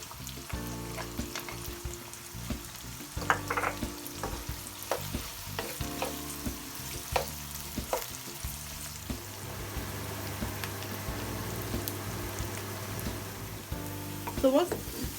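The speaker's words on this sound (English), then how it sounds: "To that we're going to add the green chilies and make them into a golden brown colour." Green chilies and onions frying in a pan for chicken karahi, a steady close sizzle with repeated stirring scrapes and clinks throughout, the frying growing denser toward the end.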